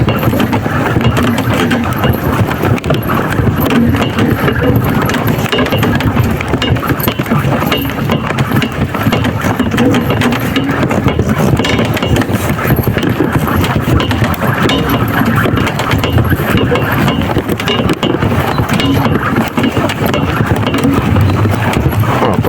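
A stallion's hooves clip-clop at a walk while he pulls a cart, a steady close rhythm running under a constant rumbling background with voices now and then.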